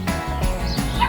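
Puppies in a children's counting song yip and bark in short, bright bursts over a musical backing, close and fairly loud.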